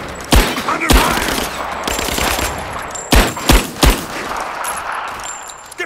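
Gunfire in the action game Rise of the Tomb Raider: sharp, close shots spaced irregularly, with a quick cluster of three near the middle, over a steady background of battle noise.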